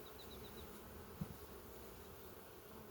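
Honeybees hum faintly and steadily around a hive, with a soft, even drone filling the quiet air and a single small thump midway.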